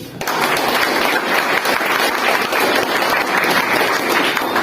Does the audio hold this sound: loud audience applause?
yes